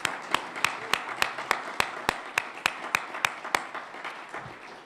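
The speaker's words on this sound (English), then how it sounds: "can we give a round of applause for these guys?" A conference audience at a Bitcoin policy summit claps for sponsors, with a few loud, evenly spaced sharp claps standing out over a softer bed of scattered applause that fades toward the end.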